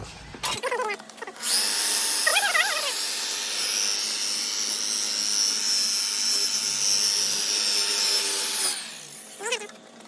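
A rotary polisher buffs black single-stage car paint near an edge. It spins up into a loud, steady high whine that holds for several seconds, then winds down, with a few faint squeaky chirps at either end.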